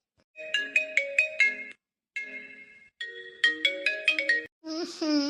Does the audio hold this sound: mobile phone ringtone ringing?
yes